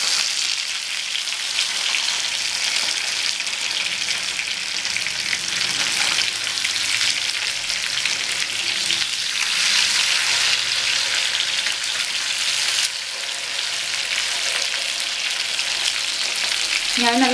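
Mackerel (ayala fish) fries in a pan with a dense, even sizzle close by that runs the whole time without pause, like rain, with no talking.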